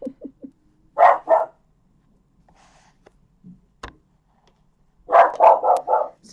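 A small dog barks indoors at a passing recycling collection, two clustered bursts of sharp yapping barks, close and loud, separated by a quiet stretch with faint rustles.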